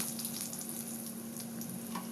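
Sliced onion rings and garlic frying in a hot pan, a steady close sizzle and crackle that continues evenly throughout with no voices.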